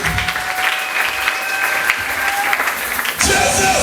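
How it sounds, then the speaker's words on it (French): A church congregation applauds and cheers in praise, a steady wash of clapping and voices filling the room for the whole stretch and swelling louder near the end. "Est-ce qu'on peut acclamer pour le Seigneur?"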